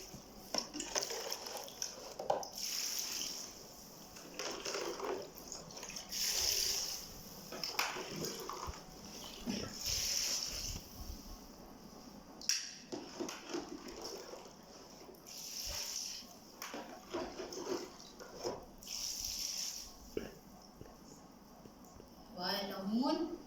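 Water runs and splashes into a bucket of pickled lemons, steady pouring with clinks of the container while someone talks over it throughout.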